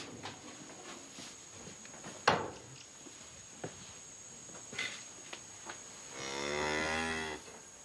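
Cattle on a family farm moo several times, with scattered footsteps and thumps between calls, then one long, loud, drawn-out moo near the end.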